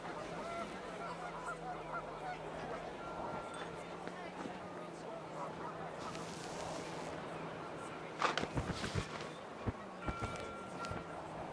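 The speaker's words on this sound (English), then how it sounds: "panicked geese appeared and quickly went" Panicked geese honking in the video game What Remains of Edith Finch, a faint flurry of calls over wind and background noise with a louder cluster near the end, under people talking.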